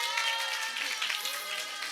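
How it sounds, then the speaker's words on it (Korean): A youth group audience at a church service claps to welcome new members, a continuous patter of many hands at moderate loudness from start to end, with no talk over it. "일단 박수 한번 주십시다"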